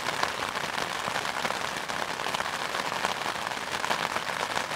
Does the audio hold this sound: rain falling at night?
yes